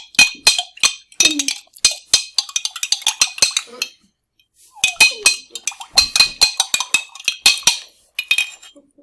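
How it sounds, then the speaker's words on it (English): A spoon or stirrer clinks rapidly against a container as sugar is stirred into water, the close, bright taps coming in two busy bursts separated by a brief pause. "Now we're going to stir it."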